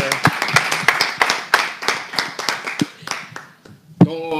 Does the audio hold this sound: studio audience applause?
yes